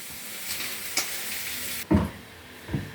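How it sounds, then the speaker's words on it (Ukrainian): Steady sizzling of chicken gizzards frying on low heat in a covered pan, a broadband hiss with a couple of soft clinks and a duller knock partway through. "Хай воно у нас так під кришечкою смажиться."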